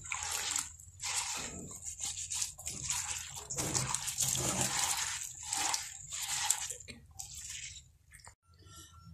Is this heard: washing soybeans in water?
yes